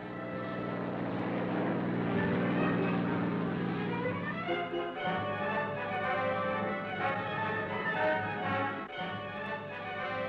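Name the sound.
military planes flying over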